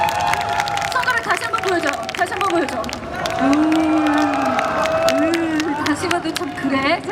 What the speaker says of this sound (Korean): 자, 우리 이분 박수 부탁드리겠습니다.